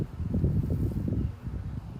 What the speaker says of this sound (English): wind won't stop, nor will the air conditioners.